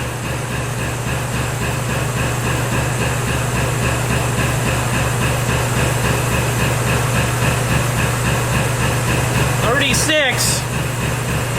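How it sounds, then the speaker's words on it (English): An air compressor at a dump truck's maintenance stop runs loud and continuous, a pulsing mechanical drone with hiss, near and unbroken, with a brief sharp sound near the end. "Goddamn air compressor."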